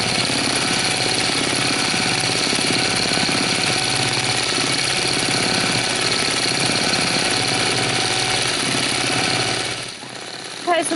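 A longarm quilting machine stitches appliqué with a loud, steady, rapid mechanical hum and needle chatter that runs almost the whole time, stopping abruptly near the end.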